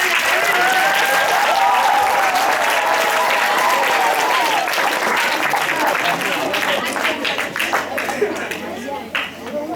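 Loud, sustained applause from an audience after a school children's play, a dense wash of clapping that continues steadily throughout and only thins slightly near the end, with faint crowd murmur beneath.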